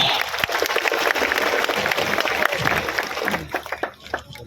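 Crowd at a kushti wrestling match, the Jejuri Kesari event, claps in a dense burst of applause that fades into scattered claps near the end, with voices mixed through it.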